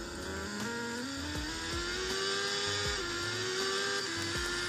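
A superbike engine in a game running on the Yuzu emulator whines and climbs in pitch as it speeds up. The rising tone is steady and moderately loud, with no voices over it.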